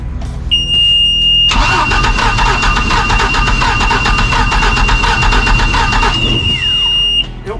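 A Mercruiser 4.3 boat engine, sitting unused for 18 years, cranks and catches, then runs loudly for several seconds with a steady mid-pitched drone and a whine before cutting out.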